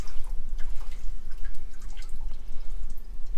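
Coolant drips and patters irregularly in a machine shop, quick close wet taps and splashes over a low steady machine hum.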